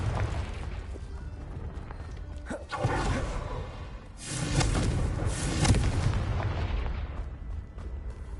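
Confringo spell explosions in Hogwarts Legacy, heard as heavy booming blasts that rise into a sustained rumbling burst over constant background noise.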